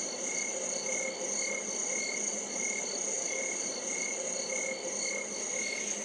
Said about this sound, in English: So this is kind of like a cricket, wind, cicada type of sound.